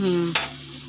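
A spoon scrapes and stirs through tilapia fish curry in a cooking pot, a short clatter over a steady simmering sizzle, with no talking.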